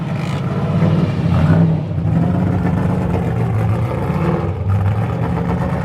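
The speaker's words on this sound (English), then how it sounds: "All of the FD cars are about to start rolling out." Loud Formula Drift race car engines rumble and rev nearby, swelling and easing in waves over a continuous throaty drone.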